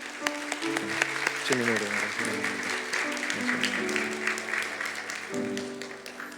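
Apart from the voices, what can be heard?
audience applause welcoming a church visitor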